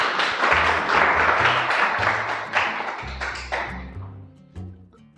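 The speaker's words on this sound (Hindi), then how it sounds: "जोरदार तालियां इन बच्चों के लिए।" A burst of clapping from a school class, dense and lively at first, then thinning out into scattered claps as it fades.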